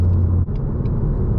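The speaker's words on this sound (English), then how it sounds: "I can hear his exhaust up there." Nearby car exhaust rumbling on a highway, heard from inside a 2019 Mustang EcoBoost as a steady, deep, fairly loud drone with a brief dip partway through.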